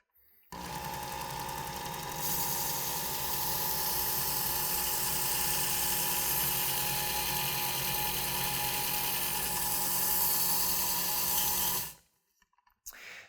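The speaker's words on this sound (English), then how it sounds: "I can bring the blade to the belt and freehand sharpen." A belt sander freehand sharpening the blade of a pair of pruners: a loud, continuous motor whine with a steady grinding rasp that runs for about eleven seconds before stopping abruptly, with no talking.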